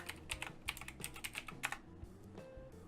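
A computer keyboard clicks in a short, quick burst as a password is typed, with light, close keystrokes lasting under two seconds before stopping.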